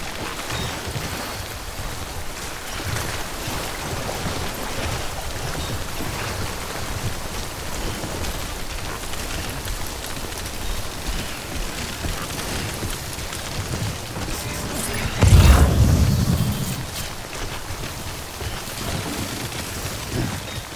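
Steady timefall rain in the Death Stranding video game, a dense continuous downpour with a single low rumble of thunder rolling in partway through, no voices.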